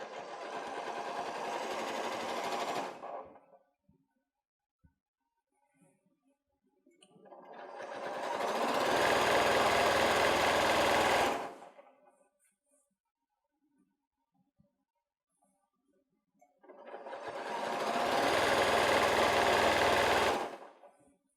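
Sewing machine stitching fabric over a thick seam on an autumn fabric bucket: three long bursts of steady whirring, each a few seconds, separated by quiet pauses.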